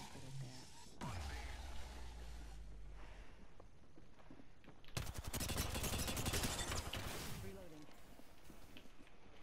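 In a shooter video game, a loud burst of rapid automatic gunfire breaks out midway, with scattered single shots before and after. Voices talk over the action.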